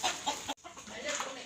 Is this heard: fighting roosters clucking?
yes